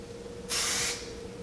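A single short burst of spray paint hisses as a light mist goes onto a Ford Focus RS widebody kit, loud and close, then cuts off into quiet room tone.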